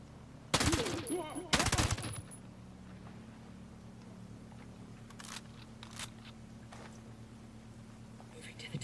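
Automatic gunfire in the tactical shooter Ghost Recon Breakpoint: two loud, close bursts of rapid shots early on, then faint scattered distant pops over a low steady hum, with a voice talking quietly underneath.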